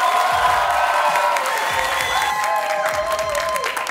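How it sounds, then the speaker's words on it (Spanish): Ground-floor seating of a live TV studio audience breaks into sustained, loud applause, thick continuous clapping layered with whistles, cheers and whoops that hold steady for several seconds. "¡Que aplauda el primer piso!"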